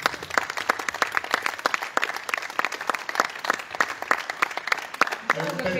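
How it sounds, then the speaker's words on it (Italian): An audience claps at a wine-producer's award event, a dense run of sharp hand claps that holds steady for several seconds and thins slightly at the end, with faint voices mixed in. "C'è un applauso."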